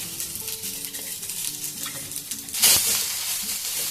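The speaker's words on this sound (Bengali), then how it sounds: "সোয়াবিনগুলো দেখুন খুব সুন্দর ভাজা হয়ে গেছে, হালকা ব্রাউন কালার" Soybean chunks fry in hot oil with a steady sizzle and crackle, broken by clinks and scrapes of stirring and one sharp burst of spitting near the end; close and without talk.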